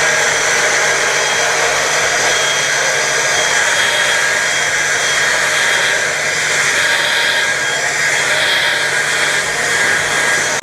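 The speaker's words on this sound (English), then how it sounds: "make sure you have a blow dryer" A blow dryer dries a client's hair after a skin fade haircut in a barbershop, running as a loud, steady whirring blast close by for the whole stretch, with no talking.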